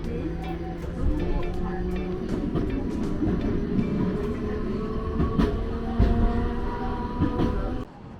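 An orange Iyotetsu streetcar rumbles past on a Matsuyama street near Dogo Onsen, rail noise with a few squeals and clacks, fairly close and steady for several seconds before cutting off.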